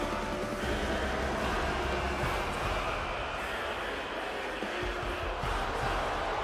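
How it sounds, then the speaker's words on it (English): A wrestling video game arena crowd boos, a broad, steady roar of many voices holding at an even level for several seconds, with no commentary over it. "See, a lot of people booing the Anti-Corporate Alliance here."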